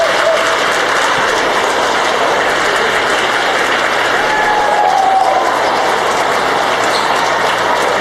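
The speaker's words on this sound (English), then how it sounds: "Seniors getting a round of applause for their efforts tonight." A gym crowd at a high school basketball game applauds the seniors late in the game, a continuous loud roar of clapping and crowd noise that stays even throughout with no clear speech.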